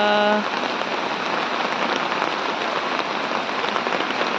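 Heavy rain falls steadily on a rainy morning, a dense, even hiss of drops on surfaces that continues without break after a brief tonal sound at the very start.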